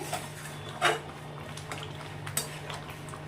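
Sugar is stirred into food in a pan with a utensil, giving a few close clinks and scrapes of metal against the pan over a faint steady background hum.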